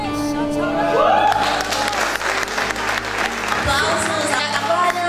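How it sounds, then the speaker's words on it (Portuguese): Audience applause at the close of a theatre play premiere at Liga Africana, a dense, steady wash of clapping filling the hall, with a sung or sustained voice line rising over it early on. "Aplausos"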